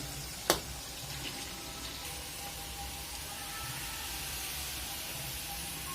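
Food for a Krishnanagar combo recipe fries in oil until golden brown, giving a soft, even sizzling hiss. One sharp click near the start breaks the steady frying, and no one talks.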